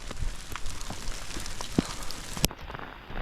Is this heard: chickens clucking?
no